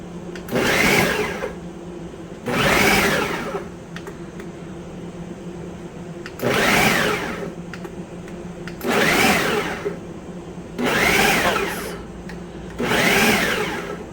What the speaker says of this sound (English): I'm going to turn my Ninja on and I'm just going to hit the chop mode.